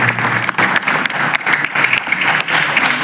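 Steady, loud applause from a crowd at a Punjabi film star-cast event in Patiala, dense clapping that continues throughout without pause.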